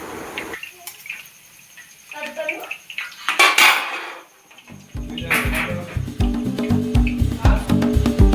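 Jalebi is scooped with a metal slotted ladle and tipped into sugar syrup, with repeated clinks and scrapes of metal against the pot, liquid sloshing, and a run of rhythmic clattering toward the end.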